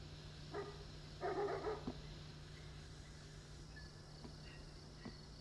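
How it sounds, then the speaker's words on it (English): Dogs barking in the distance, a few quick faint barks early on over a quiet background with a steady low hum and insect-like chirping. "So those three dog barks really quickly right there."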